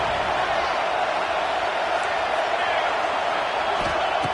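Roaring stadium crowd at a college football game, a steady wide wash of noise from a large audience heard continuously and fairly loud, with faint commentary-style speech underneath.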